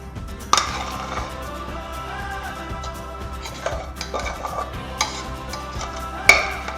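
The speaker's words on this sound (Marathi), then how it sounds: "हे आता पातेल्यातलं त्याच्यावर काढून घ्यायचं आहे" A metal utensil scrapes and clinks against a pot while scraping out hot besan (gram flour) batter, with a few sharper knocks standing out over a steady low background hum.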